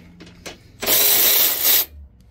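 A quarter-drive Milwaukee socket ratchet clicks rapidly and loudly for about a second on bolts during AC repair on a 2006 Nissan Pathfinder, close up, after a couple of faint taps.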